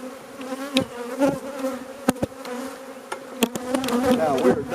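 Bees swarm and buzz loudly around an open, weak beehive during a frame inspection, with a steady close drone and sharp knocks and clicks from handling the hive.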